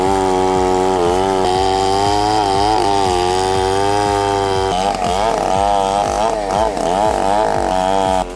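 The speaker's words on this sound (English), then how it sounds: "He's wielding a chainsaw that probably weighs as much as a small child, cutting huge rounds of wood." A heavy old chainsaw, worked by an older man, cuts through huge rounds of wood with a loud, continuous engine whine that rises and falls as the chain bites and revs.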